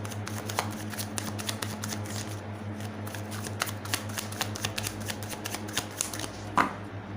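Tarot cards are shuffled in a steady run of quick, crisp riffling flicks close to the ear, with a low constant hum behind and no talking.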